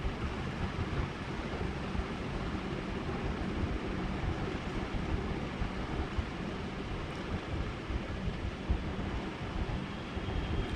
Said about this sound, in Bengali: এই ট্রেন ছেড়ে দিয়েছে